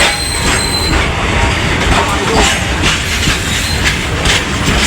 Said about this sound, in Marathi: थांबलेली ट्रेन आता निघले आणि अजून जाम डब्बे बाकी आहेत